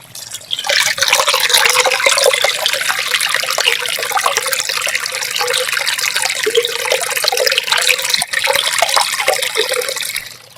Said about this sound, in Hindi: पानी काफी फ्लो से बह रहा है